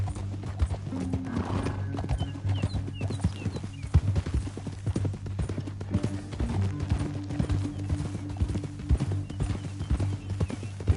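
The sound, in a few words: horse hooves clip-clopping in video game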